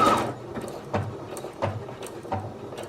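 A Singer HD 6805c sewing machine stitching on a button, giving a few spaced mechanical whirring and clunking pulses, close and moderately loud, with no talking.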